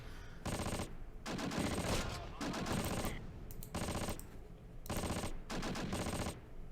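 Tank gunfire from the Close Combat war game, a series of loud, sustained bursts of automatic weapon fire in four or five rapid volleys with short pauses between them, close and harsh.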